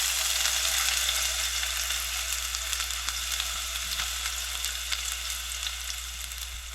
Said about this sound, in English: I'm going to throw them in the hot oil.